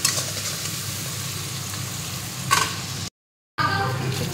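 Onions fry in a pan with a steady close sizzle and occasional scraping stirs. The sound cuts out briefly to silence, then the sizzle resumes.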